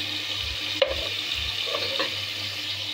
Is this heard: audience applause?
no